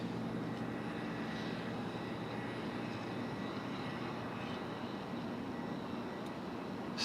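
Faint distant drone of an MD-11 jet airliner at an airport at night, a steady low rumble carrying through the dark with no talking.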